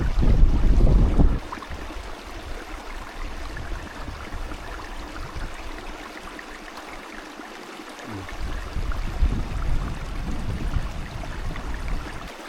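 Flowing water in Iceland makes a steady rushing wash. A loud gust of wind buffets the microphone at the start, and the water swells again in the later seconds.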